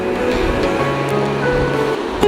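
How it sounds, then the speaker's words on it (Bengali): A cup of milk is poured into semolina halwa cooking in a pan, giving a steady, close rushing hiss with a brief splash at the end and no speech. "এখানে আমি এক কাপ পরিমাণে দুধ ব্যবহার করলাম"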